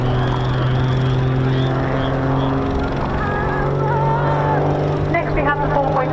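A propeller aircraft flies a display routine at the RAF Cosford air show, its steady engine drone sustained throughout with a strong low hum, while a commentator talks over it on the public address.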